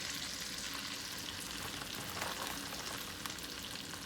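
Breaded frozen okra fries in a hot iron skillet, giving a dense, continuous sizzle and crackle that stays even and close throughout with no voices.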